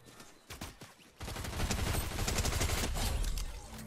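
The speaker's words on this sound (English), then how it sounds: "I'm shooting." Rapid automatic gunfire from Fortnite, with a few separate shots at first, then a dense, loud burst of sustained firing that runs to the end.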